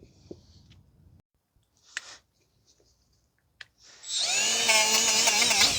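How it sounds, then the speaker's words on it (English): A die grinder fitted with a 3-inch Roloc disc spins up and runs steadily, cleaning rear brake parts on a 2012 Ford Fusion 2.5, after a few quiet clicks and taps. "Just using a die grinder with a 3-inch Rolock disc or a cookie."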